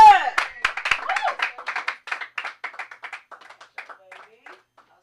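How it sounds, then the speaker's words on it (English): An open mic comedy audience claps for a performer taking the stage. The burst starts with a few whoops, then individual claps thin out and fade over several seconds. "clap it up, clap it up, clap it up, clap it up"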